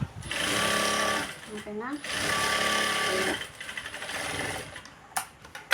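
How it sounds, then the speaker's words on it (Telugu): A sewing machine stitching a blouse runs in two long loud bursts with a short pause between, then stops, while someone talks over it. "ఇలా మళ్ళీ ఇలా పైనుంచి ఒక స్టిచ్ చేసేయండి."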